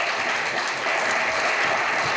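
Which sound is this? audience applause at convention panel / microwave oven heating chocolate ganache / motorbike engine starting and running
audience applause at convention panel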